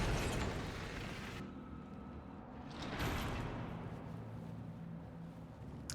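Neighborhood fireworks going off outside, heard as a couple of distant muffled booms and crackling bursts with rumbling fade-outs between them, no talking.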